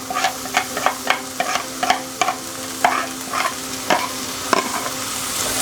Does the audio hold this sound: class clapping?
no